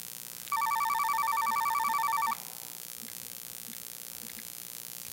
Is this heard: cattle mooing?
no